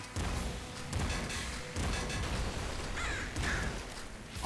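Crow-like cawing from a bird in the top-down shooter Nuclear Throne Ultra Mod, repeated calls over dense, busy game noise with gunfire-like bursts and thuds throughout.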